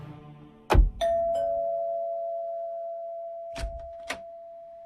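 A doorbell rings indoors: a sharp thunk, then a sustained chime tone that lingers for seconds, followed by two fainter knocks or taps near the end, with no talking.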